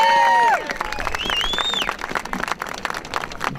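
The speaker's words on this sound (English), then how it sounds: "So please help me welcome with a very heartfelt round of applause our state representative" A crowd at a Puerto Rican monument unveiling applauds to welcome a state representative. After a brief moment of a voice, the sound turns into lively clapping and cheering with a rising whistle, and it stays steady for several seconds.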